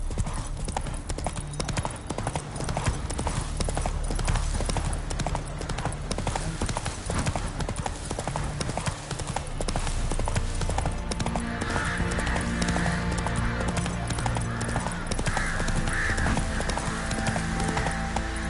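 Roach, the horse in The Witcher 3, gallops with fast steady hoofbeats under a dense game soundscape, and a whinny is heard partway through.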